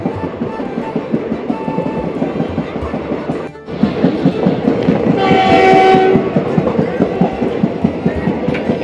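A train runs along a railway track beside a Delhi settlement, loud and close, with rhythmic clickety-clack of wheels and a long horn blast midway; voices talk over it.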